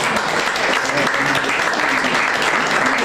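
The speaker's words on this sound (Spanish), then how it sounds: "Un aplauso." Loud, dense audience applause at the Día del Gaitero de Libardón, a continuous crowd clapping that stays steady from start to finish, with faint voices mixed in underneath.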